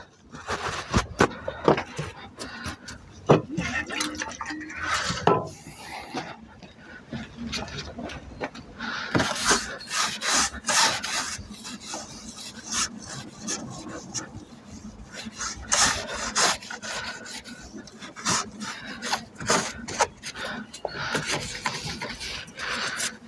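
Cloth rubbing and wiping over the windscreen frame of a Vauxhall Corsa D during a windscreen replacement, a steady raspy scrubbing in repeated strokes close by, with brief speech at times.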